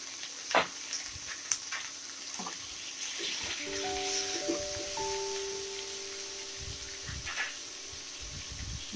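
Raw mango pieces frying in a pan with salt and turmeric, a steady moderate sizzle running throughout, with a few sharp clinks of stirring near the start and end.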